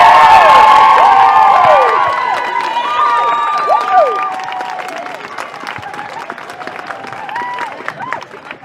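Crowd at a Leinster intermediate club championship final cheering loudly, with high shouts and whoops at the start, then applause and clapping that fade slowly over several seconds.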